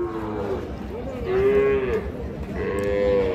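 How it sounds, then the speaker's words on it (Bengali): Young heifer calves at a Bengali village cattle market, mooing loudly and close, with several drawn-out bellows one after another over a steady hum of market background noise. "আপনারা বকনা বাছুর দেখতেছেন, আর এই বাছুরগুলো কিন্তু অলরেডি বিক্রি হয়ে গিয়েছে।"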